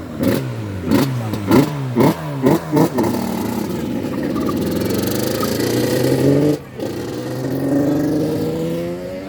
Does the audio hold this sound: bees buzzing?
no